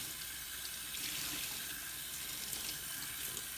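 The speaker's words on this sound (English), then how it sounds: "I'm rinsing it under a cold tap, and I'm rinsing it under flowing water" Cold tap water runs steadily over yarn being rinsed, a continuous close splashing hiss with no gaps for the whole stretch.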